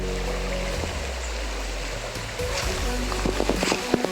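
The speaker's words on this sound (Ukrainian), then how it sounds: "Тут приємно сидіти на березі річки, слухаючи дзюркіт води" A river at Solochyn in Zakarpattia flows past the bank with a continuous close babble of water, soft gurgles and trickles, busier with small splashes toward the end, heard alone.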